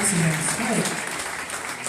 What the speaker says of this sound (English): Somebody clap for you.